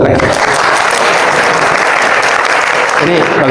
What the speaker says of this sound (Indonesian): Tepuk tangan buat Rehan.